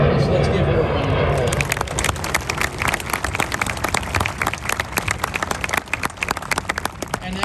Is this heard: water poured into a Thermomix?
no